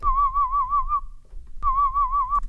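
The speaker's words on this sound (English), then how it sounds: "here's me whistling" A person whistling, played back as a sample in Ableton: two short wavering, warbling whistled phrases separated by a brief pause, clear and close with nothing else behind them.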